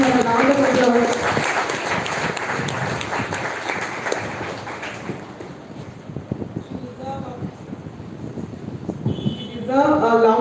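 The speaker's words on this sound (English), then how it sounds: "All of you please give her a round of applause." A school audience at a Republic Day celebration applauds a student who topped the board exam. Steady, fairly loud crowd clapping fills the clip, with voices speaking over it at the start and end.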